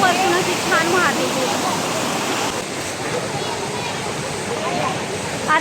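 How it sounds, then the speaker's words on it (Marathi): A waterfall pours down from high up in the jungle in a loud, continuous roar, with birds calling faintly above the rush and people talking nearby. "किती सुंदर रिव्हर आहे का धबधबा आहे माहिती नाही, पण खूप वरतून अशी छान वाहते"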